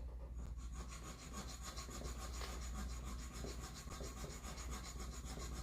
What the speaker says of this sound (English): Yeah, you're zipping through that filing.